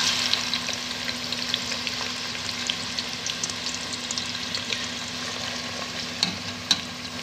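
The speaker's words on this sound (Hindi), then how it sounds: "प्याज फ्राई हो रही है," Onions frying in oil for shahi badami qorma, a constant close crackling sizzle with scattered small pops and occasional stirring clicks.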